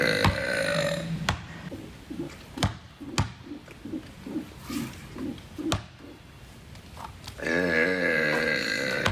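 During a basketball three-point shooting challenge, a person lets out loud, long burps near the start and end, with a series of rhythmic thuds and sharp taps from a bouncing ball in between.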